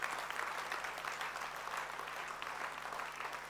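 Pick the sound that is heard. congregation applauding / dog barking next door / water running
congregation applauding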